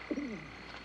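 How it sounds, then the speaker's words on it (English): A bird calls once nearby in a wooded outdoor setting, a short descending warbling coo rising out of a faint background hum. "I hear the voice of a bird."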